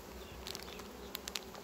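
Honeybees buzzing around opened hives, a steady low hum from the bee families with a few individual insects darting close past, quiet and without talk.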